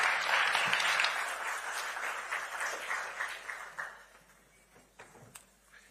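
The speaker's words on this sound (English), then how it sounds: "And I can have a round of applause for this great..." Audience applause for a speaker at a talk on democracy and information, a dense burst of clapping that thins out and fades to scattered claps by the end.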